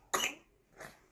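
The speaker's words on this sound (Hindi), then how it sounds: "खांसी हो रही" A small child gives one sharp, close cough followed by a softer second one, with nothing else around it.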